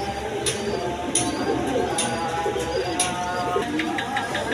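A pair of pigeons at a pigeon sale gives faint, low cooing that is partly buried under busy background noise and repeated sharp clicks and clatter.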